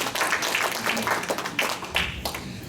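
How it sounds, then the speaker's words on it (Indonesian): A church congregation claps during a sermon, a short uneven burst of applause from a modest crowd with individual claps distinct and close. "Mari berikan tepuk tangan Bapak Ibu Saudara."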